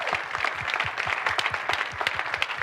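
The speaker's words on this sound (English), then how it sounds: "Big round of applause for their ambition" A small seminar audience claps together in brisk, even applause, individual hand claps standing out in a quick rhythm from fairly close, with no talking over it.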